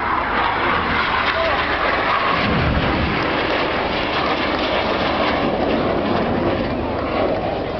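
Red Arrows synchro pair jets crossing in front of the crowd at the Bournemouth Air Festival 2011, a continuous roaring rumble that swells midway, with a commentator talking over it.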